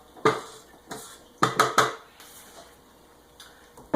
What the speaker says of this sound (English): what I like to do is kind of whisk my ingredients to make sure that they're kind of getting incorporated a little bit